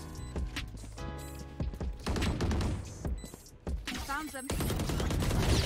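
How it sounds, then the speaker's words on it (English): Swarm grenades going off in the tactical shooter Valorant: a dense stretch of rapid popping blasts and gunfire-like bursts fills the clip, loud and continuous, with a player's brief speech mixed in. "Placing swarm grenade. Swarm grenade out."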